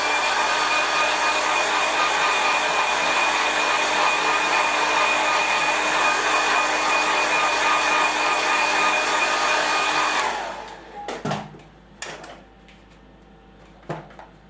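Hair dryer blowing hard on wet watercolour paint, a loud steady whoosh that holds for about ten seconds, then cuts off, leaving faint knocks and handling noises.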